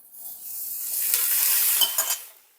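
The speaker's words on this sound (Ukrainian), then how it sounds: "Тепер, коли в мене це вже розігрілося тут, я додаю помідори." Tomatoes hitting a hot pan for a low-calorie protein breakfast, a steady close sizzle that swells and holds, with a few clinks and stirring scrapes near the end; no talking.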